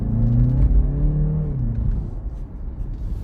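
A 2023 BMW 330i in sport mode with an 8-speed ZF automatic pulls hard, its engine note rising in pitch as it accelerates and then settling into a steady loud rumble of road and engine noise.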